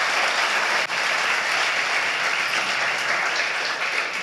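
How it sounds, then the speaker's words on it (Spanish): A church congregation at a Spanish-language worship service claps together in steady, dense applause that fills the room for several seconds, with no voices rising above it. "Dale un aplauso grande a Dios"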